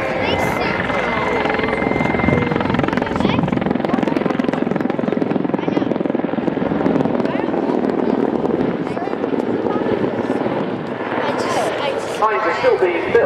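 A Mil Mi-24 Hind attack helicopter with its undercarriage lowered flies at the RIAT 2015 airshow, its loud, steady rotor thrash and turbine roar filling the whole clip while a commentator talks over it.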